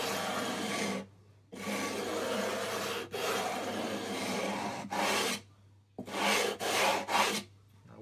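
A tool scrapes lightly along the frets of an acoustic guitar in long, rasping strokes separated by brief pauses, close and clear with no voices.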